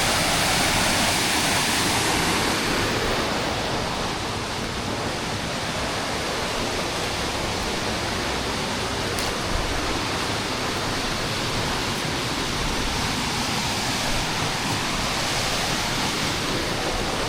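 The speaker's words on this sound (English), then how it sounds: "this is right in the middle of the city and it's a gorgeous waterfall." A gorgeous waterfall in the middle of the city of Loulé, Portugal roars in a loud, unbroken rushing wash of falling water, steady and close for the whole stretch with no voices.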